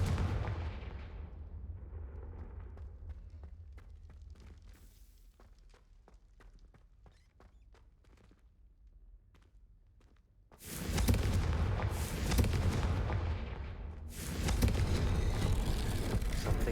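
A Confringo fire spell in Hogwarts Legacy erupts into a loud, booming explosion partway through, then keeps crackling and rumbling with blasts, after a stretch of quiet low rumble and faint clicks.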